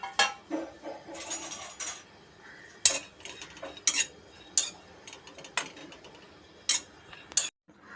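Grated coconut being dry-roasted in a hot kadhai, a metal spatula scraping and clinking against the pan in irregular bursts of stirring, close and fairly loud with no talking.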